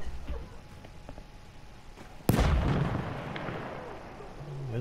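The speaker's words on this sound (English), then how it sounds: "Where the fuck was that shot?" A single sharp, heavy gunshot booms in the First World War shooter Battlefield 1, followed by a long rumbling echo, with quieter battlefield noise and faint voices around it.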